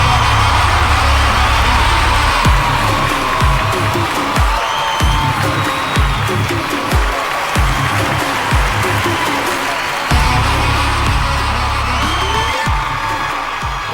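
A packed audience at the Parasakthi film audio launch cheers and applauds for GV Prakash, a loud, continuous roar of clapping with whoops and shouts, pulsing in waves for the whole stretch.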